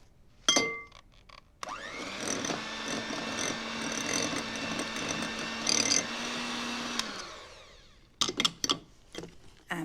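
An electric mixer beats soft unsalted butter with icing sugar in a bowl. The motor runs as a steady whirring drone for about six seconds, then cuts out, and clatters and knocks from the bowl come before and after.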